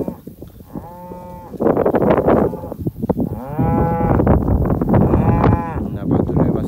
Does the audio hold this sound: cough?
no